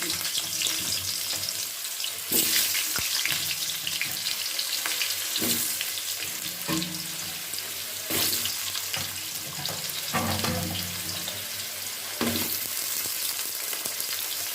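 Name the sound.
potatoes frying in hot oil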